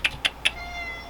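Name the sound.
pet cat meowing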